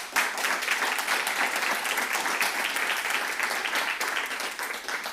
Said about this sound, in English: Should we give them all a hand?